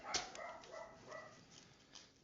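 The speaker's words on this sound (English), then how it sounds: "It seems like my dogs are freaking out." Several dogs bark and yip in the background of a home room, with short sharp barks scattered through and a faint whimpering quality. They are moderately distant and mixed with some room noise.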